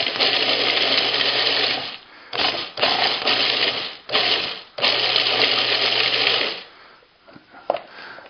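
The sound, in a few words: food processor pulsing salt and brown sugar cure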